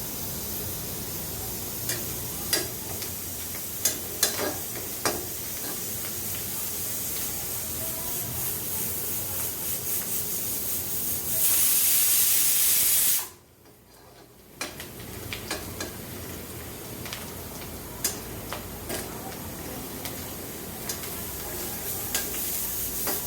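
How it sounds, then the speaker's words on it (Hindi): Snake gourd pieces frying in a pan for a simple bhujia, a steady close sizzle with occasional stirring clicks, a brief louder hiss burst and a short drop to near silence. "सब्जी बनाने के लिए जब तक कि लाल नहीं होता है तब तक इसको भूनना है।"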